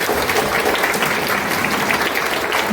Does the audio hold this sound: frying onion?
no